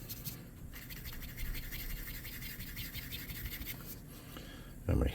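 A paintbrush dabs folk-art paint onto a small jug-shaped urn for a tabletop shrine model, giving a soft, continuous scratchy rhythm up close that ends in a louder bump.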